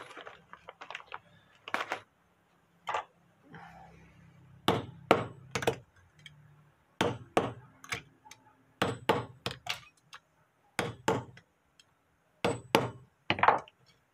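A nail is hammered to punch holes in a homemade feeder for bees: sharp, loud, close metallic knocks in quick clusters of two to four, separated by short silent pauses, with no talking.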